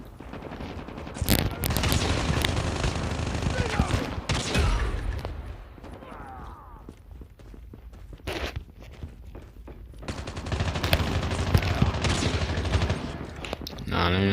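Call of Duty Mobile gameplay with repeated bursts of automatic gunfire and single shots in close succession, mixed with footsteps and in-game sounds.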